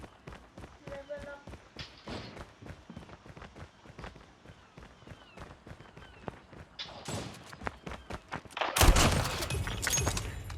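Gunfire in the video game Call of Duty, with bursts of shots and footstep-like thuds through the match and a loud, dense burst of fire near the end. A voice talks over parts of it.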